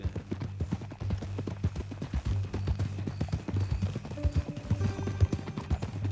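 Steady clip-clop of horse hooves walking at an even pace in Red Dead Redemption 2, close and fairly loud, with a low ambient hum beneath and no talking.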